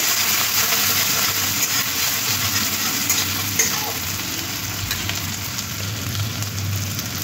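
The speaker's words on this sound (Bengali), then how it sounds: "তেলের মধ্যে একটু হালকা ভেজে নেব।" Two green chilies and crushed ginger fry in hot oil with a steady, loud sizzle and occasional stirring scrapes, with no voices.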